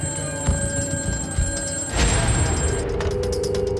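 A telephone rings in the early morning hours at a missile launch control bunker, with a steady mechanical bell ring over a dense, continuous background hum and no one speaking.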